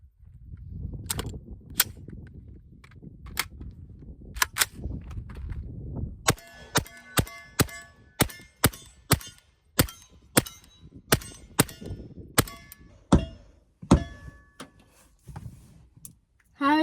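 Gunshots at an outdoor shooting range ring out as a rapid series of sharp, loud cracks, some clustered in quick succession, with softer talk and handling noise in between.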